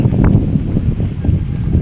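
Strong cold wind blows across the shore of the Nong Sung pond in Thailand on an overcast November day, a loud continuous low roar buffeting the microphone, with waves hitting the bank underneath.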